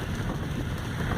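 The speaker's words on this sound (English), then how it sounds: "And oh, it's raining good." Steady heavy rain falls on a taxi at night after a day of snow, a dense even hiss with low rumble underneath, continuous and close throughout.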